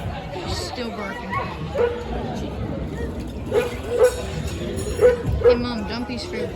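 Dog barking amid a murmur of people talking, several sharp barks spaced apart and growing clearer toward the end, moderately near with background chatter.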